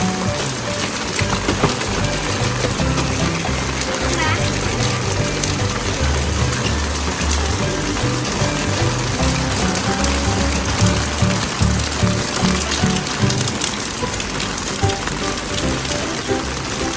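Steady rain from Hurricane Hilary falls on surfaces, a dense continuous patter and splash with no clear breaks, moderately loud throughout.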